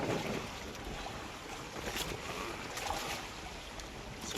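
Strong northeast monsoon wind roars steadily across the microphone, buffeting it in gusts over a constant rushing noise, with no voices.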